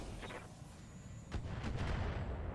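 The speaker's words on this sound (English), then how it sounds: "We can only fire the LRM-5." An LRM-5 long-range missile launcher firing in the mech battle game RogueTech: a muffled whooshing launch swell that builds into a dense, rumbling roar of rockets over a low background drone, with no talking.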